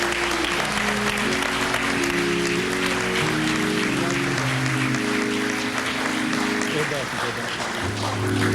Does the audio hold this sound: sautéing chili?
no